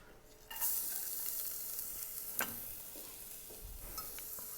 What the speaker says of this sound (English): Coating the garlic and the onions evenly in just a drop of olive oil.